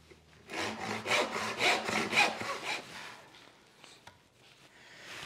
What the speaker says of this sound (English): if you've got a bench hook, just use your crosscut saw.